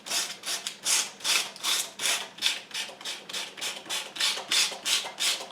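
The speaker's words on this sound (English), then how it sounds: "now I'm going to use some 50 grit sandpaper here, and I'm just going to kind of rough it up just a little bit here" Wood being roughed up by hand with coarse 50 grit sandpaper, a rhythmic scratchy rasp repeating about twice a second in steady back-and-forth strokes, close and alone.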